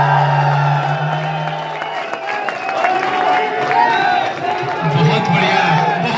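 A crowd at a CRPF training comedy poetry session claps and cheers after a comic poem, sustained applause with whoops running through the whole stretch, a voice briefly heard near the start.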